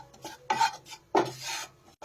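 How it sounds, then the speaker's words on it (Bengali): A spoon scrapes and rubs through flour and melted butter in a hot kadai, giving two or three short rasping strokes with quiet gaps between, close and alone without talk. "ভালো করে ময়দাটা বাটারের সাথে মিশিয়ে নেব।"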